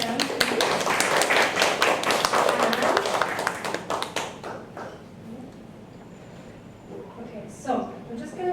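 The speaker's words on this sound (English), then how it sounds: "So round of applause for them, please." Loud applause from an audience at a panel talk and book launch fills the first several seconds, then fades into scattered claps and murmuring.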